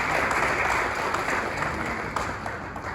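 Sustained applause from a seated audience at a dealer awards ceremony in a hotel, a dense, steady clapping that fills the whole moment and eases slightly toward the end, with no talk over it.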